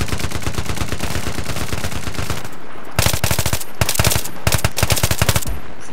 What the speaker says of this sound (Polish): Strzelam tak na oślep